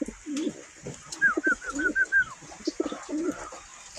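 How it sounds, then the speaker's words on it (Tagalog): Pet pigeons cooing at close range, several soft throaty coos in an uneven rhythm along with a run of short higher call notes, against a faint background hiss. "yung ating alagang kalapati."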